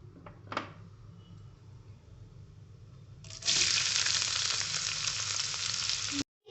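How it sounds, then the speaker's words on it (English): Chopped onions and cumin seeds frying in a pot, opening with a few faint clatters before the oil erupts into a loud, steady, close sizzle that cuts off abruptly near the end, with no talk. "let's add 1 teaspoon cumin seeds. Add onion."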